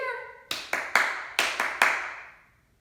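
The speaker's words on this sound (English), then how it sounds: "now it's time to echo clap" A rhythmic pattern of six sharp hand claps rings out in a reverberant room during an elementary music lesson, unevenly spaced and each with a short decay, following a brief sustained tone.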